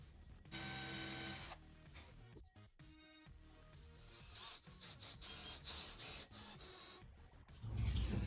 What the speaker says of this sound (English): So I'll show you how I got my screws going in here.